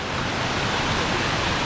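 Steady broadband rush of water flowing in a woodland stream beside an abandoned pumping station in Derbyshire, continuous and fairly close, with no talk over it.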